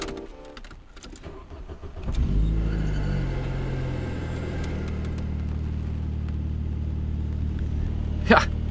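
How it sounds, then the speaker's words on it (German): A neglected old convertible's engine cranks, catches and settles into a low, steady idle rumble, with a brief sharp noise near the end. "Immerhin springt dieses Auto noch an."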